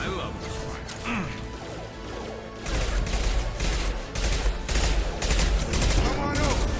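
Rapid sniper rifle fire and mechanical clatter in the video game Mass Effect 2, a dense run of sharp reports and ratcheting bolt sounds over a loud, busy combat backdrop.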